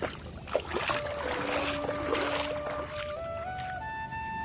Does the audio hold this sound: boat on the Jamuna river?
yes